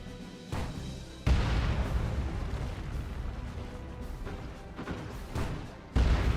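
Grenade launches and heavy explosions in the strategy game Dawn of War 2 Retribution: two sharp booming blasts several seconds apart over a rumbling battle din, no talking.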